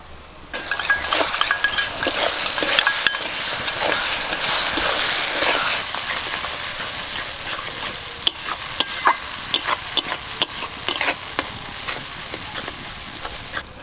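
A spice paste of dried chilli, cashew and tomato sizzles loudly in a pan for a red deshi chicken curry, with a spoon stirring and scraping against the metal and sharp clinks growing more frequent toward the end; no voices.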